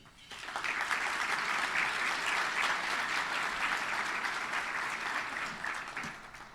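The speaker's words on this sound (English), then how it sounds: "Will you please join me in a round of applause for this group?" An audience at the Lincoln Inspire Awards 2020 breaks into warm, sustained applause, a dense clapping that swells quickly, holds for several seconds and then tapers off.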